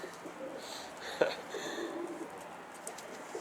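Soft cooing of Karabaş tumbler pigeons outdoors during a flight session, faint and intermittent, with one sharper call near the middle over quiet background.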